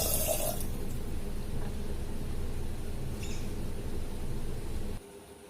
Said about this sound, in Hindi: उसके अंदर जाएगा पानी और हम ढक देंगे इसे